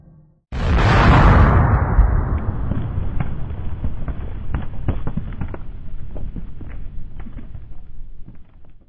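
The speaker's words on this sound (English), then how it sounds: "a deafening explosion ripped through the area" A gas leak blows up a house in New Jersey with a sudden, deafening blast. Heavy rumbling and crackling debris follow for several seconds while the sound slowly fades.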